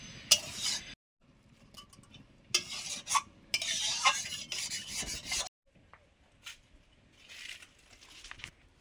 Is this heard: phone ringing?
no